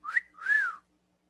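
A voice imitates a short whistle: two quick rising-and-falling whistled tones, the second longer and gliding, heard alone and close with no talking.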